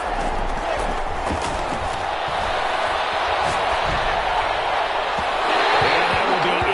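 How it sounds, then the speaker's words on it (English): A stadium crowd cheers as a big third down approaches in the football video game Madden 21, making a steady, loud roar that swells slightly near the end. "the crowd getting into it as we come up on a big 3rd down"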